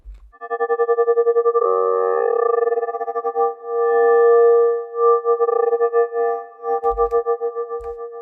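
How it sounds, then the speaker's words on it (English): A sustained synthesizer chord rings out with a long reverberant tail, swelling and pulsing slightly, with a couple of soft low thumps near the end. "Add more reverb after it."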